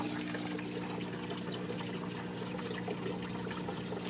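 Water used for rinsing an aquarium runs in a steady, soft trickle and splash that continues evenly for a few seconds at low volume.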